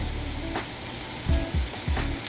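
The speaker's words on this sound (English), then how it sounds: "I'm gonna fry the onion in with these" Chopped onion frying in a pan on lowered heat for instant ramen, a steady close sizzle with a few low thumps of utensil contact, no talking.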